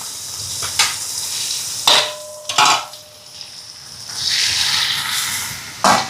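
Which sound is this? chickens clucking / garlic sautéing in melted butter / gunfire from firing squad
garlic sautéing in melted butter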